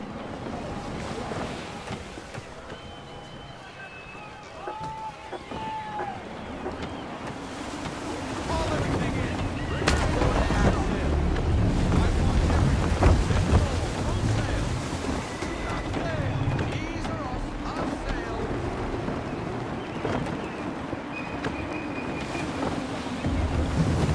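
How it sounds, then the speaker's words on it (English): Gusty wind while sailing a ship in Assassin's Creed 3, a steady rush of wind and surging waves that swells in the middle, with voices talking over it. "Gusty winds can be difficult to manage."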